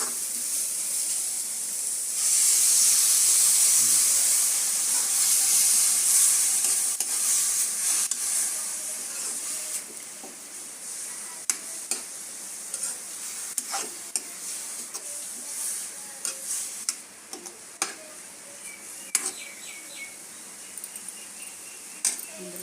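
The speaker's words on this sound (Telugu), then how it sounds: "దోర వేగిన తర్వాత దాంట్లో కాచి పెట్టుకున్న పాలు కొద్దిగా సరిపోయినంత పోయి" Boiled milk is poured into carrot fried for halwa, setting off a loud, steady sizzling hiss that gradually settles, followed by scattered close clicks and scrapes from stirring.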